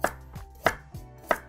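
A knife chops through peeled carrots on a cutting board, three sharp, evenly spaced strikes about two-thirds of a second apart, each followed by a softer knock, close and clear with no talk.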